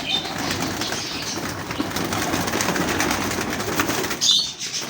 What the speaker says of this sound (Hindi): मेरे दोस्तों भाई ये पहला कबूतर आया जी, टैडी कबूतर है।